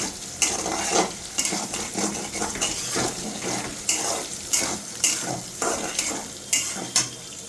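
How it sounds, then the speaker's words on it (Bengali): Food fries in a pan with a continuous loud sizzle, broken by regular scraping strokes of a spatula stirring it, close and steady throughout with no voices. "এখন আমি এটাকে ভেজে নিব"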